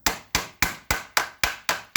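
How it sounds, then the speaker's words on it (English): A hammer drives a rivet into iron with eight crisp, evenly spaced strikes at close range, each ringing briefly before the next. "you can actually hear and feel that through the hammer when it's going in right"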